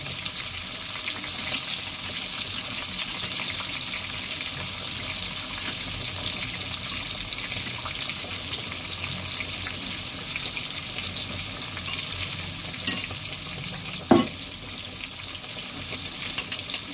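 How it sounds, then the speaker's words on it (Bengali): Three pieces of katla fish fry in oil with a steady, even sizzling hiss throughout, broken once by a brief knock, with no voices. "আবার 3 পিস মাছ ছিল সেটা ভাজতে দিয়েছি"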